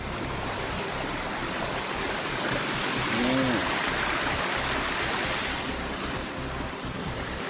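Broad, steady rush of water from a waterfall and flowing stream on a misty mountain trail at Khao Samorpoon, continuous and fairly loud throughout with no clear voices.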